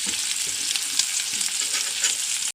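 Dried fish frying in a pan gives a close, steady sizzle and crackle that runs without a break throughout, with no voices.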